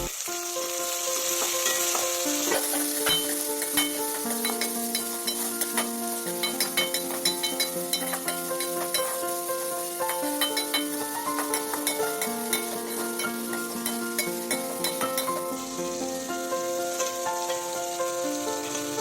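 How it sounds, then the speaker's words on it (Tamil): Tomatoes and curry leaves sauté in a pan with a steady sizzle and frying crackle. Repeated stirring scrapes sound close over the sizzle throughout. "தக்காளியும் சேர்த்து நல்லா வதக்குங்க."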